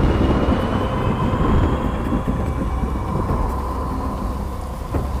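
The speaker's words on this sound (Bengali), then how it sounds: "আর এমন সময় শুরু হয় ঝড় বৃষ্টি।" A stormy downpour with thunder in an animated horror story, a dense continuous rumble and rain wash that stays loud throughout with low rolling thunder beneath.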